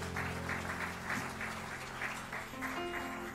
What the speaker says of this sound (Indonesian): Berikan tepuk tangan dulu buat Tuhan, boleh?